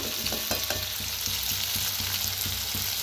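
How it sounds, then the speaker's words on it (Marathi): Potatoes frying in a pan, a dense continuous sizzle with faint regular scrapes of stirring, close up, steady and without speech. "तर मस्त असं बटाटो भाजून घेऊया।"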